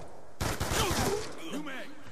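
A short rapid burst of gunfire in Call of Duty: Black Ops 2, starting abruptly after silence and rattling for under a second, followed by a faint voice-like whine as it fades.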